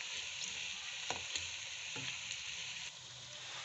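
Four large onions sizzle in hot ghee in a pan, a soft, steady frying crackle with a few stirring scrapes, close by and alone with no voices.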